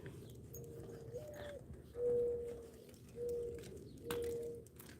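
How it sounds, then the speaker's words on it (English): Mourning doves cooing outdoors in a suburban garden, soft repeated low hooting calls in slow phrases against a quiet background hum. "Hear that dove singing? Morning doves."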